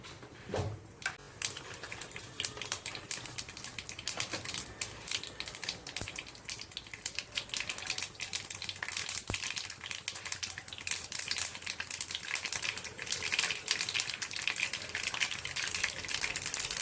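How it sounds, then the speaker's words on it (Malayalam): A full teaspoon of mustard seeds crackles and splutters in hot oil in a pan while gooseberry pickle is made Kerala style, with dense rapid popping and sizzling that continues close and steady throughout. "എണ്ണ ചൂടായി നമുക്ക് കടുക് ഒരു ഫുൾ ടീസ്പൂൺ കടുകിടുക."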